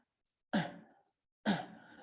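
A voice imitates the grunting breathing of a newborn: two short, breathy, forceful grunts about a second apart, close and isolated against silence.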